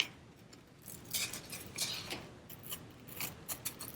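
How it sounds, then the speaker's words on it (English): Scissors snip through an IOD transfer sheet in a crafting setting, making a series of quiet, close crisp cuts and paper rustles that repeat irregularly. "So I'm gonna trim this line here real quick."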